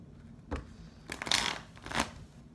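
A few soft, quick bursts of tarot cards being riffled and shuffled, close and quiet, with brief papery flutters.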